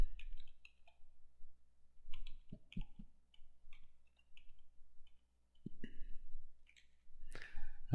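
A computer mouse clicks in quiet, sparse single and double taps nearby, with a few soft rustles between clicks and no speech.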